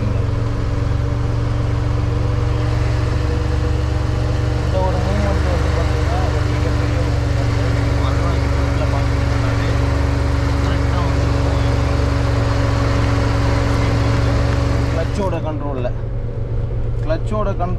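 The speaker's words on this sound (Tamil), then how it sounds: "கிளச்சை லைட்டாக ரிலீஸ் பண்ணுறேன், வண்டி மெதுவாக மூவாது பாருங்கள்" A car engine hums steadily while the vehicle creeps slowly uphill on a slope under clutch control, a constant close mid-pitched drone that drops away near the end.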